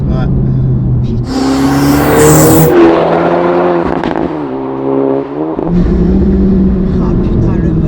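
Honda Civic Type R FK2 with a turbocharged VTEC engine, heard from inside the car as it pulls hard, the revs climbing and falling with loud intake roar, the driver talking over it.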